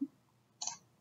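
A single short mouse click on a browse button, quiet and close in a near-silent room.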